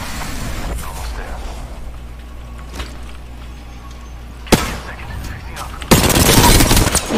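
Gunfire in the Apex Legends video game, with sharp shot bursts at a few points and a louder volley of rapid fire toward the end over a steady rumble of game background sound.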